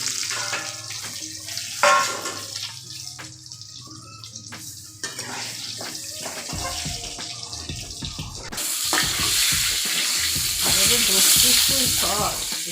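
Pointed gourd (patol) frying in a pan, with scattered clatter and watery splashes at first, then a loud, dense sizzle swelling over the final few seconds.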